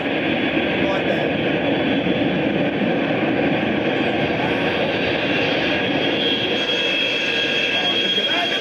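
A Boeing 777-200 jet airliner with CFM engines roars steadily and loudly near an airport runway, a continuous dense engine rumble and whine heard at some distance, with voices talking over it.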